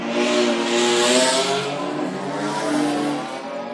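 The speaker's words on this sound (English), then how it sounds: "BMWs make their way around for the very first time behind the Pretoria Noord Toyota 86." Several BMW racing cars roar past close by at Zwartkops behind a Toyota 86 pace car, in a steady, loud stream, engines revving high as they sweep through.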